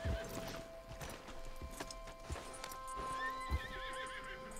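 A horse in Red Dead Redemption II clip-clops with a few close hoof steps and snorts, then gives a whinny, heard alone over soft in-game ambience and music.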